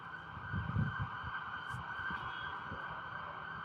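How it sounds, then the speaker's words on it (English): A police siren wails in a London street, a steady, fairly distant tone over traffic rumble and passing cars. "The police are coming."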